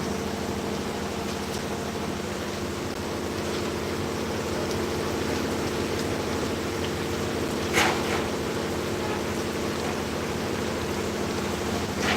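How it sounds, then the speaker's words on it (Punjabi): Heavy rain pours steadily on School Road in Tapa Mandi, a dense, unbroken hiss of downpour with one brief louder knock partway through and no voices. "ਭਾਰੀ ਬਰਸਾਤ ਸੜਕ ਦਾ ਲੈਵਲ ਇੱਕੋ ਜਿਹਾ ਹੋ ਗਿਆ ਕਾਫੀ ਮੀਂਹ ਪੈ ਰਿਹਾ ਹੈ"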